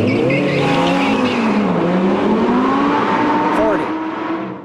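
An Audi R8 accelerates hard with wheel spin inside a building, its engine roaring loud and close with rising revs and tire squeal, while someone talks over it.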